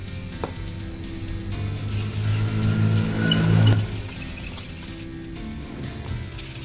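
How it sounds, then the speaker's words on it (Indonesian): Close, continuous rubbing of fine sandpaper over a wooden branch being shaped into a slingshot, swelling louder midway then easing into lighter, quicker strokes. "kita amplas lagi yang halus ya, yang agak halus"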